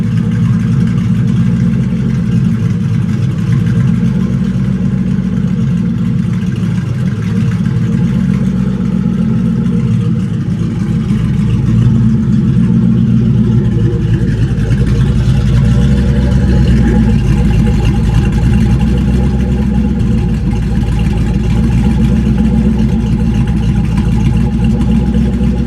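Ford Mustang GT with a 4.6 two-valve V8 and CMS stage 1 cams idles with a loud, lumpy, continuous rumble up close, its revs swelling and sagging a little throughout.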